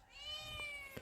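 A single cat gives one drawn-out meow, close and clear, with no other sound around it.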